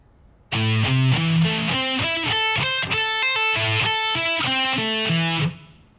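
A distorted electric guitar plays a shred lick at slow tempo, a steady run of around twenty separated notes rising and falling across the strings, loud and close with no talk, fading briefly after the last note.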